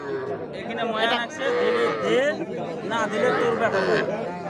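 Cattle at a busy village livestock market where calves are sold, lowing intermittently close by amid steady crowd chatter and people talking throughout.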